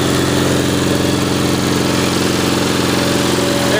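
A Cub Cadet 1420 Hydro lawn tractor idles with its Magnum 14 engine, giving a steady, close, loud rumbling hum with no breaks or voices.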